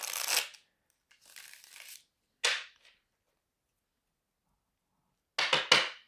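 Tarot cards are shuffled in a few short, crisp riffling bursts with silent pauses between them. The bursts are close and clear, ending in a double riffle.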